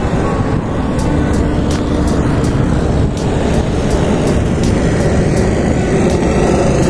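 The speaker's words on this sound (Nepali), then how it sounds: "प्लेन जाँदैछ।" An airplane passes overhead near an airport. Its loud, steady roar fills the whole stretch and blends with nearby road traffic.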